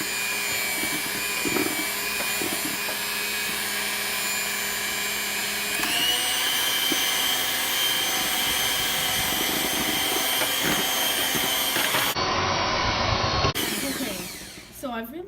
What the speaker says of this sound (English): I'm gonna mix it one more time with that mixer, just in case there's any clumps to get out